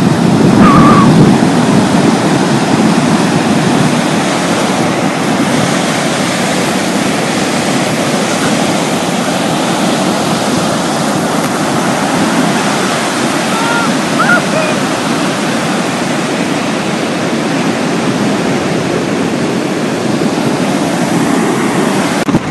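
Continuous roar of surf breaking on Blues Beach on the Australian east coast, a loud, steady wash of waves with no pauses and no talk.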